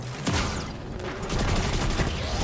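Rapid submachine gun fire in Destiny 2, a dense burst of close shots running steadily for a couple of seconds with no talk over it.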